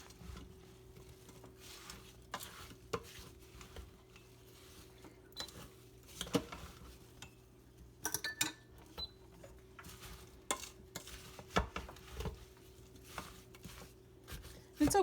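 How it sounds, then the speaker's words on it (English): Applesauce ingredients with cloves, vanilla and water being stirred in an Instant Pot, faint scraping and knocking of a spoon against the pot in scattered bursts over a low steady hum. "We're going to give all of that a quick stir."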